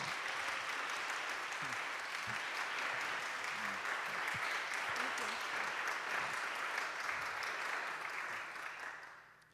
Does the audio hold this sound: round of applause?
yes